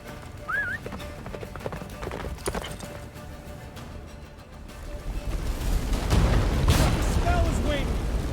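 Roach, a horse in The Witcher 3, gallops with rhythmic hoofbeats under game music and rumbling battle noise that swells toward the end, with character voices talking over it.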